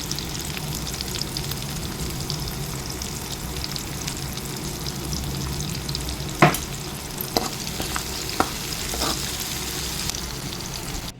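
Onions, green chilies and curry leaves sizzle steadily in a kadai, a dense close frying hiss with a few scraping stirs of a spoon, no voices.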